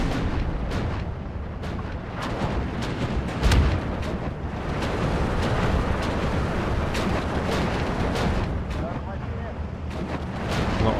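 Artillery fire in the World War II strategy game Steel Division 2, repeated distant booms and sharp shots scattered through a continuous battle rumble, with someone talking over it.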